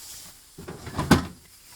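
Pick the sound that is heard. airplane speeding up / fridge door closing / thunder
fridge door closing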